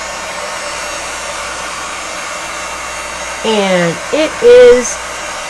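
A heat gun blows steadily over wax and alcohol inks, a constant even rush of air from start to finish, with a voice speaking briefly over it near the end.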